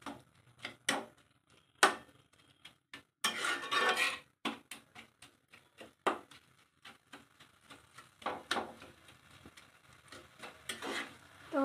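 Coconut and jaggery are stirred in a wok, with irregular metallic scrapes and clinks of a utensil against the pan, close and fairly quiet, with no talking.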